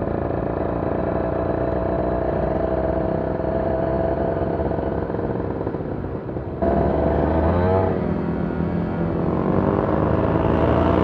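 Kawasaki Ninja R 2012 motorcycle engine accelerating, a loud, steady, close drone that rises in pitch as the revs climb, with a sudden jump in loudness partway through.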